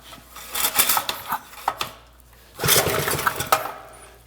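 A small minibike engine being pull-started without choke, sputtering in several uneven bursts that rise, die away, then surge again without catching, loud and close with no talk.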